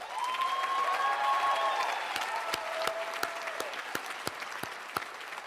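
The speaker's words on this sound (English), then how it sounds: "give yourselves a round of applause again" Audience applause at a college commencement for the class of 2018 swells from a crowd under a fading sustained tone, then thins into scattered, distinct claps.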